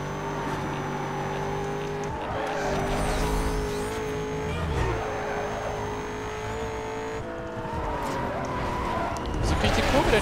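A Corvette race car in Need for Speed Most Wanted, chasing a rival Viper: continuous engine drone with shifting revs and tire squeal through corners, steady and close, with a voice talking over it.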